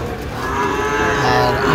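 A Sahiwal bull at a cattle market moos in one long, loud, close drawn-out call that rises in pitch toward the end, with crowd murmur faintly behind.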